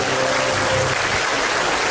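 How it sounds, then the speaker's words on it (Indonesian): Studio audience applause on an Indonesian comedy talk show, a dense, steady wash of clapping that stays loud and even for the whole stretch with little talk. "Iya, tepuk tangan dong."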